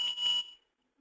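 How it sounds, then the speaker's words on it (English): A loud electronic beep from an access control controller sounding a forced-door alarm, two sustained alarm-like tones in quick succession lasting about half a second, then cutting to silence. "Now that beep is coming from the controller itself."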